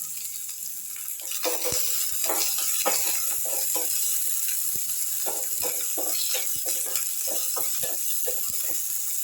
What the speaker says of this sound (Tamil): வெங்காயம் கொஞ்சம் வதங்கட்டுங்க